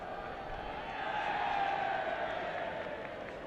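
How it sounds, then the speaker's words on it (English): Spectators at a cricket match at Trent Bridge in England, a steady low murmur of the crowd with faint scattered applause, distant and continuous throughout. "Crowd definitely getting into this one this afternoon, enjoying this"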